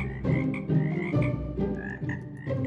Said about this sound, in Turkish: bunlar harbiden sihirli kurbağa lan